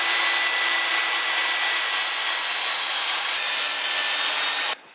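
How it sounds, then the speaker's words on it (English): A table saw cutting through wood while making a drill press table, with a loud, steady high-pitched whine that holds for several seconds and then stops abruptly at the end. "My table saw is really loud"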